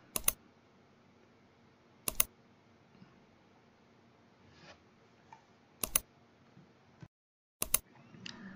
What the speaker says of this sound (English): Hit Windows key and R key at the same time.